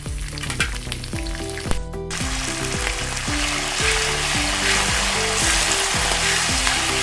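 Peanuts and curry leaves hit hot oil for a flattened-rice mixture, setting off a loud, dense sizzle that swells and stays strong and continuous. Background music plays underneath and no one speaks.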